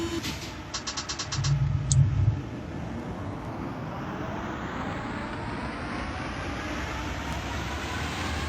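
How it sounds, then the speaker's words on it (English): A metro train on Lausanne's M2 line rumbles past in a metro simulator game, a steady loud rolling roar that holds throughout, with a brief burst of clicks and a low thump near the start. "Oh, that's the other train."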